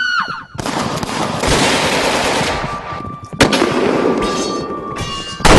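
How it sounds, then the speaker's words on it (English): Loud rapid gunfire crackles in dense bursts, with a sharp pause near the middle before another volley of shots rattles on. "You hear guns firing as well."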